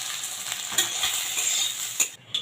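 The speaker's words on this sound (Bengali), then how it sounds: "গরম করে ভালো করে ভেন্ডিগুলো ভাজতে হবে" Okra frying in a hot kadai gives a steady close sizzle, with a few brief stirring clatters and one sharp knock near the end.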